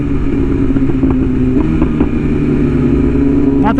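BMW S1000RR sport bike with an aftermarket exhaust idling and rumbling steadily nearby, its engine tone holding fairly constant with only slight rises, no voices over it.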